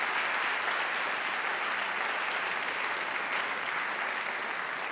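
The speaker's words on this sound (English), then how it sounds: "I just want to invite one more round of applause for Robert Rosenkranz for making this possib" Audience applause at a formal science-and-religion debate, a dense, even wash of clapping from a large crowd that holds steady for several seconds with no talk.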